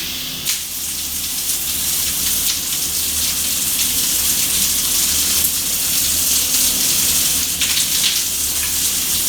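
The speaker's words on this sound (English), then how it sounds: "that's water from the inner jets, or the middle jets" A Grohe Geneva shower head sprays water from its inner and middle jets, making a loud, continuous hiss that stays unbroken throughout, with no voices.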